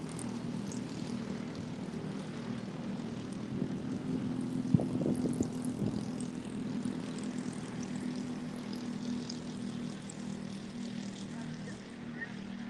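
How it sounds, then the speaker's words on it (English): Racing karts with 100 cc engines run at Daytona International Speedway during a WKA race, making a steady, buzzing engine drone that holds at a fairly even, moderate level throughout. "these are karts here at Daytona International Speedway, and they run basically like a Briggs & Stratton motor"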